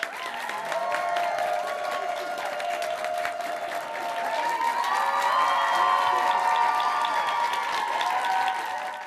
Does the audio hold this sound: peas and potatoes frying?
no